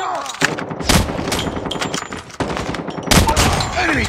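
Bursts of automatic gunfire crack through a military shooter video game battle, with rapid volleys near and loud, a brief lull in the middle, then another heavy burst.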